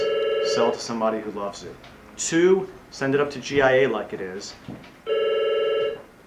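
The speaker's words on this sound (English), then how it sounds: "That's my phone." A telephone rings in an indoor room during a diamond-cutting lesson on large round and radiant cuts. Two electronic ring bursts open and close the stretch, and someone speaks between them.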